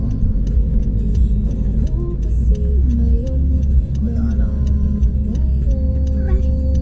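Inside a car during a driving lesson, the turn signal ticks in a steady, faint rhythm over the low engine rumble while people talk briefly.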